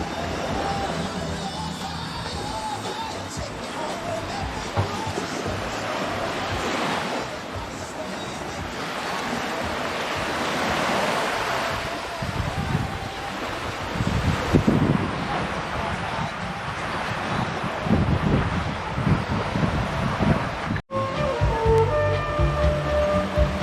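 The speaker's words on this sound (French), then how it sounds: "Une petite vue de la plage de Klong Chau Beach." Surf rolls onto the beach at Klong Chau, Koh Kood, in a steady broadband wash with gusts of wind buffeting the microphone throughout; a brief dropout occurs near the end.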